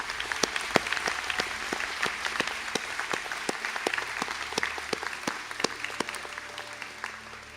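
Applause from an audience at a college conferring ceremony as graduating Quantity Surveying honours candidates stand, a steady wash of many hands with sharp individual claps standing out, fairly distant and continuous.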